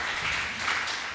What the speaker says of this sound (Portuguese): que nós recebemos com uma salva de palmas.